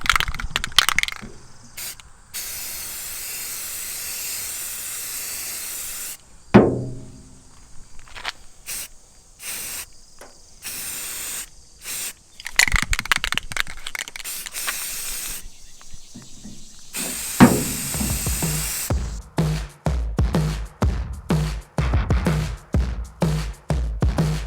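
Bursts of hissing matte green aerosol spray paint on a duck hunting boat, repeated in short and long blasts with brief pauses and clicks between them, fairly close.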